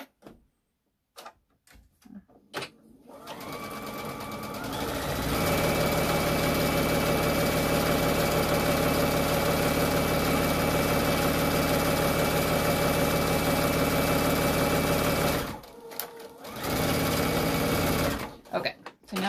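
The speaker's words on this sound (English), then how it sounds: "I'm going to sew my little casing to put my elastic in right here" A sewing machine runs a long, steady stitching stretch close up while sewing an elastic casing on a ponytail scrub hat. It starts and stops with brief bursts at each end.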